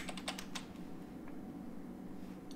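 A few quick keystrokes on a computer keyboard as a command is typed, clustered clicks at the start, then faint taps over a steady hum.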